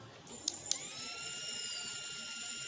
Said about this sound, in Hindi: आप मोटर की आवाज़ सुन सक रहे हो